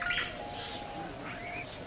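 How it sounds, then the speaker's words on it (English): Pigeons chirp and coo softly at mid distance in a steady, continuous patch of birdsong, with a few brighter calls rising now and then and no talk over them. "Roy, you up there with those birds"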